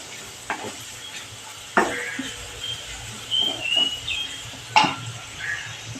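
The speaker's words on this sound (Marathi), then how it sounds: "कांदा व्यवस्थित परतून झालेला आहे त्यावर आता मी रवा घालणार आहे" Onions sautéing in a kadai give a low sizzle beneath sharp scraping stirs of a spatula against the pan, two louder strokes standing out amid quieter stirring.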